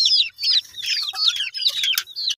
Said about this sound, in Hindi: तमाम जो असील मुर्गियाँ थी हम सारी वापस ले कर आ गए हैं